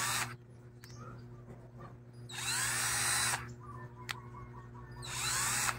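A cordless drill whirs in two short high-pitched bursts, close and loud, separated by quiet clicks from handling the tool.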